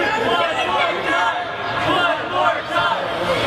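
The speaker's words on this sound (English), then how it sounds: "The crowd wants to see one more." A wrestling crowd roars and chatters steadily throughout, with swells of cheering and shouts rising and falling as the arena waits for one more move.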